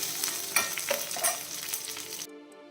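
Spices fry in a pan for a pumpkin dish, a bright sizzle with a few scraping stirs that cuts off abruptly near the end, leaving a faint residual hum.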